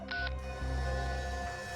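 A telephone call in a crime drama ends with electronic line tones: a short high beep, then a steady buzzing tone that holds close and clear with no talk.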